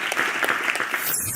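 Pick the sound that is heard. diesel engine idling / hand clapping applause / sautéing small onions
hand clapping applause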